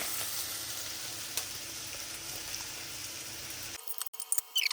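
Chopped onion and garlic sizzle steadily in a pan for a spiced butternut squash and coconut soup. The crackling hiss stays close and even for most of the clip, then cuts off into a few scattered kitchen clatters.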